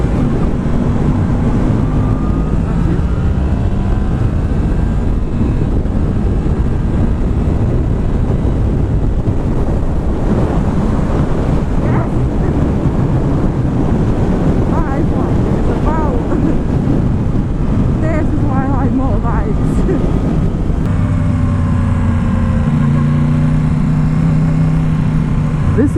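A Yamaha MT-10 SP motorcycle with a slip-on exhaust cruises on a motorway, its steady engine drone heavily buffeted by constant wind roar, with a few passing pitch sweeps from revs or other traffic.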